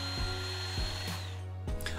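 Power drill pre-drilling a wooden handle for a table saw miter sled, a steady close motor whine with a few short bursts and pauses as the bit bites into the wood.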